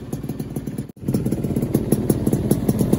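A Yamaha F1ZR two-stroke motorcycle fitted with an R&R racing exhaust revs hard up close, a loud, raspy, rapidly pulsing buzz with a brief cut before the throttle picks up again.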